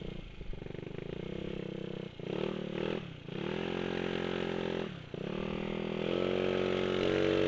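A tuned Honda Vario 125cc scooter engine revs hard and close, rising and falling in several sustained bursts with brief dips between, loud and continuous with no talk.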